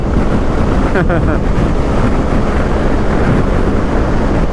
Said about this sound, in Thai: ลมพัดเร็วขนาดนี้เลยอ่ะ